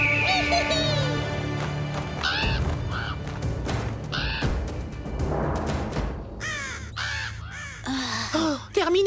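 Several crows caw harshly in an animated cartoon about wolves, with repeated loud squawking calls in quick bursts over a background music bed and cartoon sound effects.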